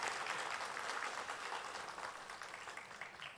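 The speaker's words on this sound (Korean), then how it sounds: "축하 박수 한번." Congratulatory applause from a church congregation during a Sunday service, a quiet, distant wash of many hands clapping that holds steady and then slowly fades.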